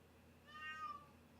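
A single drawn-out cat meow, fairly quiet, rising and falling over a faint background hum.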